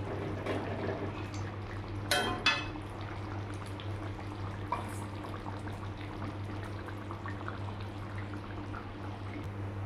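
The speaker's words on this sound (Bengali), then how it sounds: "এবার ধনেপাতা কুচি দিয়ে একটু ফুটিয়ে নেব" Parshe fish curry with brinjal bubbling in a pan after chopped coriander goes in, a low continuous simmer with a brief burst of liquid sounds early on and a steady hum underneath.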